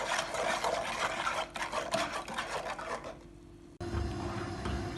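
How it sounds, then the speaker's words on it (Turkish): A spoon stirs a cake batter of molasses cake mixture as it cooks, making continuous close scraping and rubbing strokes against the pot that pause briefly before resuming with a louder, deeper scrape. "Şimdi bunları iyice karıştıralım, pişirelim arkadaşlar"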